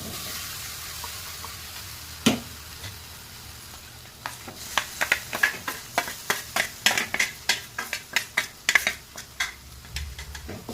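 Thick tomato puree sizzling and bubbling as it reheats in a pan, joined by a steady series of spoon scrapes and stirring knocks that grow more frequent.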